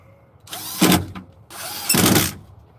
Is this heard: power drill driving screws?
yes